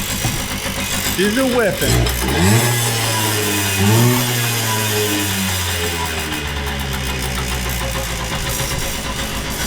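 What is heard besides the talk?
old Kawasaki dirtbike engine running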